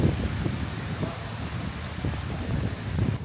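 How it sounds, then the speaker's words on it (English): Strong wind buffeting outdoors at a Disney resort as a storm moves in, a loud rough gusting roar right against the microphone that swells and eases. "It's so windy and there's so much lightning everywhere."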